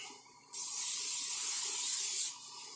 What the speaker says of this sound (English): we're going to spray all 4 sides of the pan so they don't stick in here